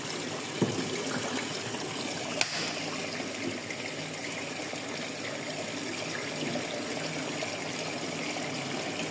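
Hot water runs steadily from a tap in a laundry during a stain test, a continuous broadband rush with a couple of faint knocks, no talking.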